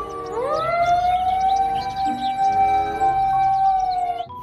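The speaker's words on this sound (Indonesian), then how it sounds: "di sini ada mobil pemadam kebakaran." Toy fire engine siren wailing up to a single sustained tone and holding it for about four seconds before fading, loud and close with faint background chatter.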